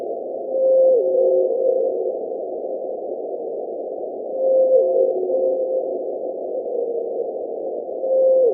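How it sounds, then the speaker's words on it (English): Antarctic blue whale song, sped up twenty times, plays as a steady buzzing hum with short gliding tonal units repeating at regular intervals, loud and continuous. "So these are Antarctic blue whales, and these songs are sped up 20 times"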